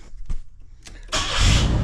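A 2.8-litre Chevrolet Camaro engine cranks briefly and catches, settling into a loud, steady idle after a few clicks.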